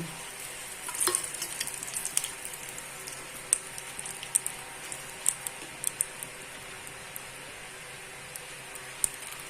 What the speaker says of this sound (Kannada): ಚೆನ್ನಾಗಿ ಎಣ್ಣೆ ಜೊತೆ ಸ್ವಲ್ಪ ಫ್ರೈ ಆಗಬೇಕಿದು.